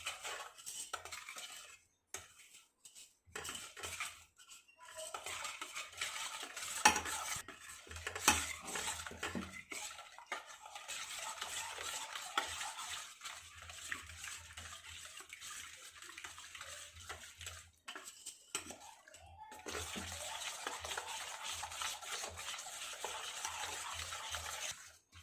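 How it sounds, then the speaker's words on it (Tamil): Maida flour being stirred little by little into melted sugar for Kalakala sweet, with a spoon scraping and clinking against a metal pan in irregular bursts, separated by brief pauses, close and moderately loud. "கொஞ்சம் கொஞ்சமாக போட்டு மிக்ஸ் பண்ணிகிட்டே இருங்க"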